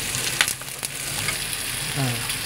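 Shell-on prawns pan-fry slowly for Sichuan pepper salt prawns, giving a steady close sizzle with a few brief pops and spatula scrapes, alone without talk.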